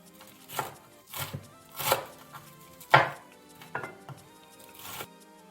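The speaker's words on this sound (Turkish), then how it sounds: "Onları da ince ince doğrayalım." A knife finely chops parsley on a cutting board, a series of crisp, close taps spaced about a second apart, with no talking.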